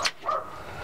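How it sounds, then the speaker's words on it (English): A dog gives a short, sharp yip or bark nearby, followed by a fainter second yelp, all within a second. "There's my dog."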